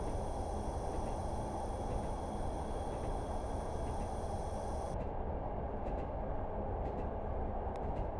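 Class 105 diesel multiple unit running on the line between Barnard Castle and Bishop Auckland while braking gently, a steady broadband rumble and rush that stays loud and constant throughout.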